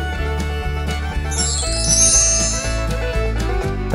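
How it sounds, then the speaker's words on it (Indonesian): A bright notification-bell jingle rings out for a couple of seconds over steady background music, sparkling and high, then fades. "tekan lonceng untuk dapat notifikasi video-video terbaru"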